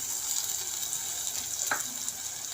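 Tomatoes hit hot frying spices in a pan for a chicken aloo gosht, giving a steady, fairly quiet sizzle with a brief stirring scrape partway through and no talking.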